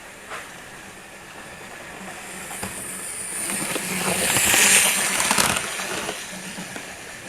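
A model railway train runs along its track with a soft, continuous rolling rumble and hiss that slowly builds, peaks as it passes nearby, then eases off.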